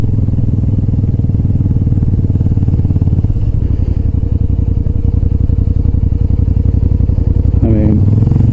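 Motorcycle engine running steadily at close range while riding on gravel, a loud throbbing low rumble with rapid regular pulses and occasional clatter, a voice talking briefly over it near the end.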